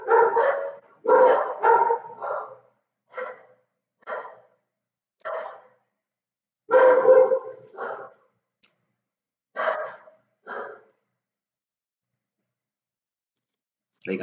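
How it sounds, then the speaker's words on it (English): A dog barks in short, separate woofs and clusters of barks, fairly close and distinct, with long gaps of near silence between them. "I heard the dog before they did."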